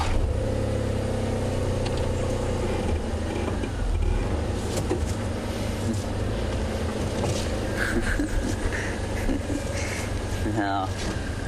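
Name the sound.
motorboat engine on a safari boat ride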